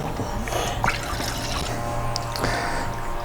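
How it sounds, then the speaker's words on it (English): Water poured into a Scuttle camp cooking pot at an overland campsite: a soft, steady trickle with a few light splashes against a low background hum. "we're going to add some water onto the scuttle."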